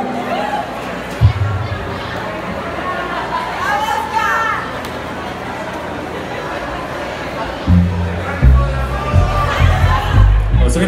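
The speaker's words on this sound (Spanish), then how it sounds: "A ver, un aplauso." Lively outdoor crowd at a music show in Escobedo, Nuevo León, with shouting, cheering and children's voices mixed with chatter, loud and close, swelling again near the end.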